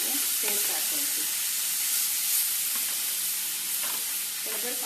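Radish sautéing in a pan for a stuffed roti filling, giving a loud, continuous sizzling hiss, with faint speech breaking through at moments.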